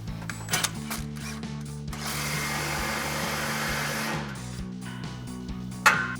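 Ratchet tightening an exhaust clamp on a GMC Sierra 1500 with a C&L dual exhaust system: close, quick clicking strokes with a sustained rasping burst in the middle, over a steady low hum and no talk.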